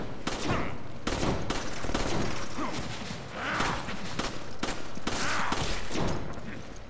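Rapid bursts of gunfire from Resident Evil 5, several volleys of shots cracking loudly across the scene with brief gaps between them and busy game effects underneath.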